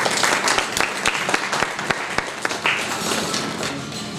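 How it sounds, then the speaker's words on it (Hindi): Audience applause welcoming a guest author at a literary event in Agra: dense, steady clapping from a sizable crowd with a few sharper nearby claps standing out, sustained throughout without a break. "तो आइए तालियों के साथ इनका स्वागत किया जाए।"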